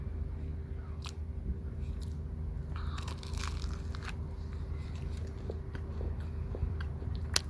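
Crisp crunching bites into a flaky sausage roll pastry, with several sharp crackles and chewing sounds close up over a low steady hum.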